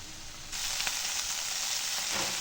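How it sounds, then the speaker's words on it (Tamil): Mint, coriander and curry leaves fry in a pan; a steady, bright sizzle surges up after a brief quieter moment and then crackles on continuously, with no voices. "எல்லாத்தையும் சேர்த்து நல்லா மிக்ஸ் பண்ணிவிட்டு கொஞ்சம் நேரம் டைம் கொடுக்கலாம் நல்லா ஃப்ரை ஆகட்டும்"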